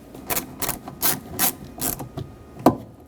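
A ratchet drives screws into the rear window regulator of a 2006-2010 Hyundai Sonata, producing about six close, evenly spaced bursts of clicking with a sharper final click.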